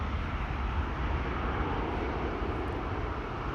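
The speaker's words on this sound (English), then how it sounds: "Air Arabia on the move. United 767 lining up in the background." Airliners at Amsterdam Schiphol Airport, including a United 767 lining up for departure, produce a steady, loud broadband jet engine roar that holds unbroken throughout.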